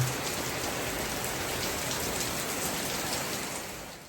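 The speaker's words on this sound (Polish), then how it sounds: "A jak tak kabina taki deszcz uderza, to dopiero jest fajnie." Heavy rain drums steadily on the cab of a truck, a dense, even hiss of drops that stays loud and unbroken throughout, fading slightly at the end.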